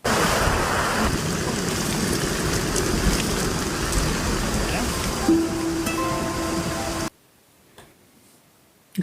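Steady, dense rain pours down for about seven seconds in a continuous wash and then cuts off abruptly into near silence.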